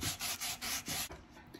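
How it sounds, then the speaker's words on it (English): Short back-and-forth strokes of 220 grit sandpaper rubbing over a chippy painted candlestick, about five rhythmic scrubbing passes heard up close with no talk. "now we're just going to sand around some of these chippy parts and around some of the high points of the design"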